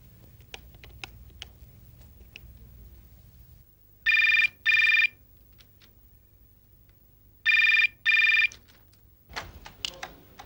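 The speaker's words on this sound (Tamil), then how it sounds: "இப்பவே ஃபோன் பண்றேன். நான் டயல் பண்றேன்." A telephone handset gives a few faint keypad clicks while dialing, then two loud double-burst rings sound out at a steady interval, followed by scattered clicks and handling noise.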